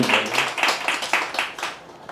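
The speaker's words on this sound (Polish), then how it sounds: "Wielkie brawa, drodzy Państwo, dla autorów, którzy są obecni" Audience at an author meeting in a Big Book Café clapping for the book's authors, a steady run of fairly close, rhythmic claps lasting a couple of seconds and tapering off.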